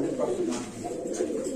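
A male Sirazi Lahori pigeon coos close by in a short burst of low, rolling calls with a soft repeated rhythm.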